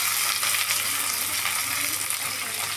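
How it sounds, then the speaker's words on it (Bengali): Chopped onions frying in hot oil, with a steady, bright, continuous sizzle and crackle that stays close and even throughout, with no talking. "তেলটা গরম হয়ে গেছে, এবার আমি তেলের মধ্যে দিয়ে দিচ্ছি কুচনো পেঁয়াজটা"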